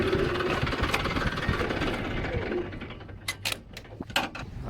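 A tractor engine runs at a farm, with a steady, loud rumble for about three seconds. It then drops to a lower idle with a few sharp clicks and knocks.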